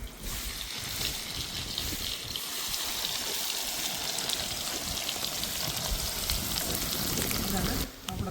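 Chopped onions sizzle in hot oil for a whole corn curry, a steady bright frying hiss lasting throughout with a brief drop near the end.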